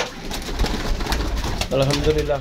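Pigeon cooing nearby, a returning bird settling in a loft or trap, with someone talking over much of it.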